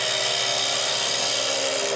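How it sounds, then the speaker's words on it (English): A skew chisel used as a scraper against a spinning wooden wine glass stem on a wood lathe gives a steady, loud, continuous hissing scrape, close by and with no talking. "I use a skewer a lot, and I use it as a scraper for these pieces, and it works real well"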